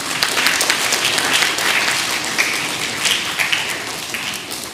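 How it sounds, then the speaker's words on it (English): A crowd at a primary school inter-school championship medal ceremony applauds the winning school: sustained, dense clapping from many hands, loud and even throughout with no speech over it. "Let's give them a round of applause."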